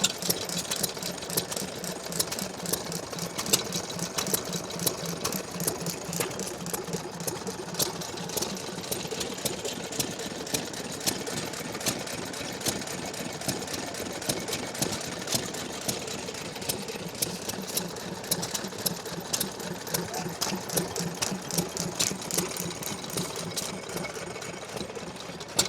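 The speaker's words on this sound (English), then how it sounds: "Waterloo Type K 2 horsepower engine." Vintage Waterloo Type K 2 horsepower stationary engine running at a vintage engine rally: a steady, rapid mechanical chugging with even, regular beats, heard up close and continuous throughout.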